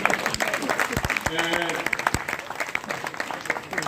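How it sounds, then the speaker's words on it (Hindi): Audience applause at a Hindi poetry gathering (kavi sammelan) in Shamshabad, a dense burst of many hands clapping with a voice speaking over it. "एक बार तालियां बजा दीजिए।"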